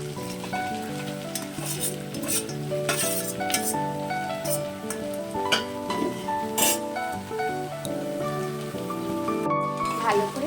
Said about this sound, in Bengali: মশলার সাথে আলুর সাথে লাউ দিয়ে নাড়তে থাকবে